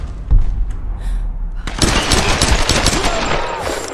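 Rapid bursts of automatic gunfire and loud shots from the Tomb Raider video game, starting faint and then erupting into a dense, continuous volley for the second half.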